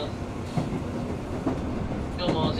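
A JR West Osaka Higashi Line commuter train runs along the rails with a steady rumble and periodic wheel clatter, heard from inside a carriage with talk in the background.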